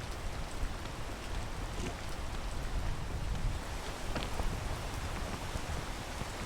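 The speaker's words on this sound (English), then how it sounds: "Oh, come on, rain." Steady, dense rain hissing from the video game Peak, a continuous even wash of drops with no gaps and no voices over it.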